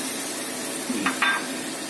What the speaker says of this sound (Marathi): ही आपली कोळंबी आपण ओतून घेऊ